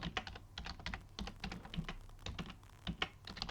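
Quick bursts of keystrokes on a computer keyboard type out a game name, a steady clatter of close, crisp clicks with short pauses between words and no talk.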